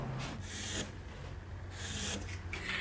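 Pencil sketching freehand diagonal lines across wooden tiki bar trim, a dry scratchy rubbing in short close strokes with a steady low hum underneath.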